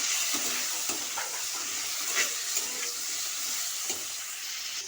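Potatoes and tomatoes fry together in a pan, giving a soft, steady sizzle with faint scattered crackles, low and continuous throughout.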